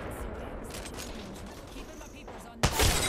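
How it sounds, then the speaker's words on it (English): Kraber sniper rifle fire in the Apex Legends video game, with busy game noise throughout and a sudden loud shot burst near the end. "the Kraber shots are on fire right now"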